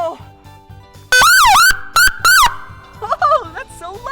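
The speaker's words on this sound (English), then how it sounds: "what else is also used to let everyone know that there's an emergency is the siren" Police motorcycle emergency siren wailing in loud, sweeping bursts that rise and fall, cutting in abruptly and stopping twice before trailing into a softer warbling tone over a low idling rumble.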